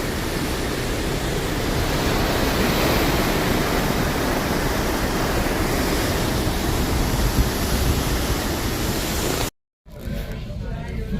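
Constant broadband rushing of sea water and wind surrounds a moving vessel, steady and loud throughout before cutting out briefly near the end.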